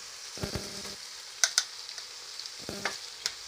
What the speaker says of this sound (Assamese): মিহলি কৰি ভালদৰে অলপ টাইমৰ কাৰণে ভাজি ল'ম